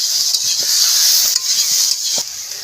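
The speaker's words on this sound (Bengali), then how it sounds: "মশলা কষিয়ে নিইনি তরকারিতে দিয়েই কষাচ্ছি" Cauliflower curry with spices stir-fried in a pan, giving a steady bright sizzle with a few soft scraping stirs of a spatula, close and continuous with no talking.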